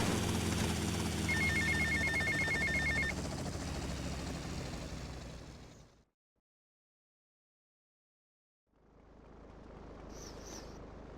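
Helicopter rotor and engine drone from the GTA Vice City video game, a loud steady whir that cuts out to silence for a couple of seconds, then returns with a faint high chirp.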